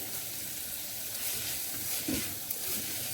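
Samosa filling with a tablespoon of coarse coriander powder sizzles steadily in a hot pan, a soft continuous frying hiss with a brief stir near the end.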